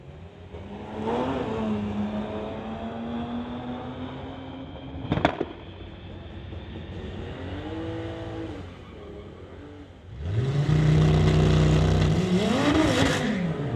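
A 2023 VW and a 2008 BMW launch in a street-legal drag race, engines droning and rising in pitch through the gears, with a sharp crack midway and a louder, harsher surge of revving near the end, heard from trackside.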